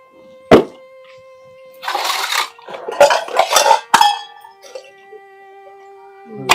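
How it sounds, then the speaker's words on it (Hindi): Dishes being washed by hand: sharp clinks of pots and utensils, bursts of running, splashing water and scraping, irregular and close, with ringing metallic tones between. "बनाऊं बाबू पहले बर्तन धो लूं"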